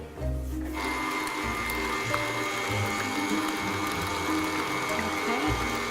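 An electric mixer beating sugar and flour together runs as a steady, close mechanical whir with a constant motor drone and faint rattling throughout.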